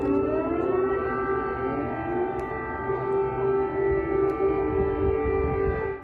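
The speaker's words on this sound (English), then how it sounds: "the morning began in Ukraine with air raid sirens" A wailing air raid siren in Ukraine sounds continuously in the morning, steady and loud, with layered tones rising and falling slightly over a low background rumble.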